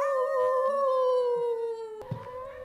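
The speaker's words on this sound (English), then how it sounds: "Reggie, bark really loud" A dog named Reggie howls on command in a long, sustained, wavering howl with clear harmonic tones, close and loud, cut off abruptly near the end by a short thump and faint rustle.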